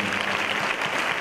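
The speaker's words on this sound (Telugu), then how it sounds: "సంఘమందరూ కూడా చప్పట్లతో వారిని అనుమతిస్తున్నారు" A church congregation at a Sunday Telugu Mass claps together in a hall, a brief, steady wash of many hands applauding at moderate volume with no voices over it.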